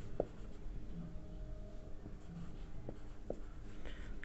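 Chalk or marker strokes on a classroom board during a lesson, faint scratchy writing with a few sharp taps scattered over steady room hiss.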